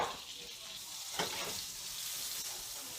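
Plant-based butter hitting a hot skillet, a broad steady hiss of sizzling with a couple of brief sharper crackles, fairly close and alone without talk.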